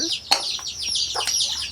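A hen clucks and chatters in short, sharp bursts close by, with brief pauses between calls.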